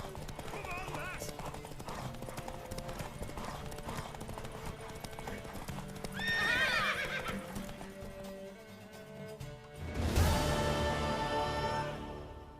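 Hooves clip-clop at a gallop beneath busy game sounds and voices in The Witcher 3, with a horse neighing loudly twice, the second whinny near the end.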